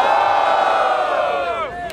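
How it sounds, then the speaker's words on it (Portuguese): A crowd at a rap battle in Barueri, SP roars and cheers loudly for two seconds, a dense sustained wall of shouting voices that fades slightly toward the end. "Barulho para as rimas do Christian"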